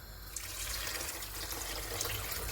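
About three glasses of water poured into a cooking pot of chicken and masala, giving a steady, close rush of running water with no voices.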